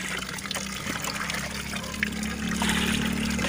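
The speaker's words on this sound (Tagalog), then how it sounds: "So yan ang pag-mix ng ano, molasses at tubig." Molasses is stirred into water by hand, giving a steady close trickling and sloshing of liquid over a low constant hum, with no voices.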